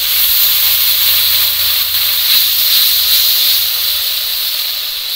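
Water splashed into hot ginger and tomato spice paste in a pan for a Bengali sea-fish curry, a loud, steady sizzling hiss that holds strong and tapers slightly near the end.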